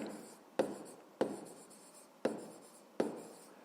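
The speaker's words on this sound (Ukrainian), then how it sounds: "Записуємо це" A pen writes by hand on paper close up, quiet scratchy strokes broken by four sharp taps as the pen touches down, with no one talking.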